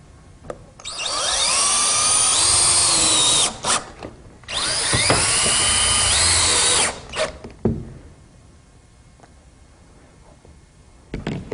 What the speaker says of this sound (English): I'm using a SSR1 pan screw, and I'll be installing these screws about every 12 inches apart.